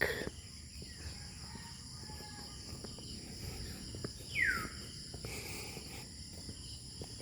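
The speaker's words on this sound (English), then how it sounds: "Listen to that, you can hear the birds and the insects." Insects and birds on a rural farm: a steady high shrill of crickets with a continuous faint drone under it, and a brief distant bird call rising out of it midway, no voices.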